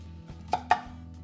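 A knife chops broccoli on a cutting board, two crisp, close thuds with a quiet pause between them and no talk.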